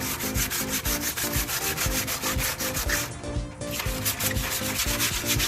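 Charcoal grill grates being scrubbed clean with quick, rhythmic back-and-forth rubbing strokes, loud and close, repeating steadily throughout with no talking.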